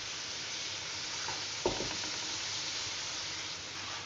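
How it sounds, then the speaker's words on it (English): Chicken sears in a pan with ginger garlic paste for a chicken spinach curry, giving a steady close sizzle with one brief stirring knock partway through. "And you want to seal the meat"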